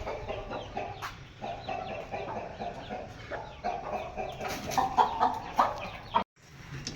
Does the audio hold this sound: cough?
no